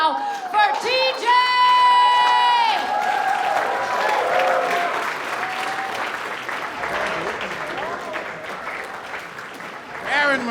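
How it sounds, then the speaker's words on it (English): Comedy club audience in New York applauding and cheering as a comic is welcomed to the stage, a loud dense wash of clapping with whoops and shouts that carries on throughout, with voices calling out over it. "Clap it up right now for TJ!"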